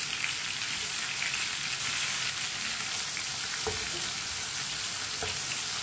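Green chillies sizzle and fry steadily in a hot pan for Indian lauki (bottle gourd) sabzi, a dense continuous crackle with a couple of faint stirring knocks, no talking.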